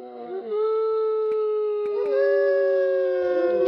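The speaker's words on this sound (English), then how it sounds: "Dude, I do not like the howling of the wolves." Wolves in a Minecraft modpack game give long, sustained, mournful howls, loud and close, sliding slightly in pitch and overlapping with a few brief clicks.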